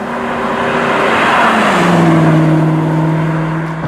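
A Ford GT40's engine revs loudly from inside the car while driving, a sustained throaty roar whose pitch climbs and shifts as the throttle opens, with no voices.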